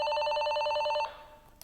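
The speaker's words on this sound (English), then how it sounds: "Pressing this activates the ringtone on the other walkie-talkie." A Motorola TLKR T6 walkie-talkie sounds its call ringtone, a bright electronic trilling tone held steadily for about a second before fading out, followed by a faint click.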